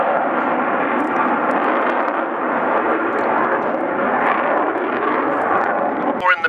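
Avro Vulcan XH558 bomber at the RIAT airshow, a loud steady jet rumble and roar filling the air throughout, with a voice talking over it.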